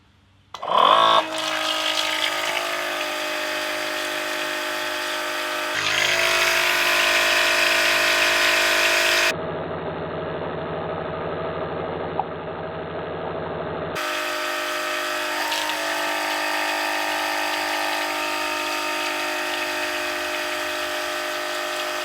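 Milwaukee battery-powered transfer pump drawing water through a hose, starting with a sharp burst and then running as a steady motor whine and sloshing flow that shifts pitch and load several times, close and loud.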